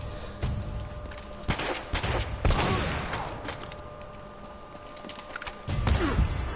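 Gunfire in Uncharted: Drake's Fortune, a run of loud, sharp shots and short bursts scattered irregularly through the stretch, with mechanical clatter between them, close and dominant, no talking.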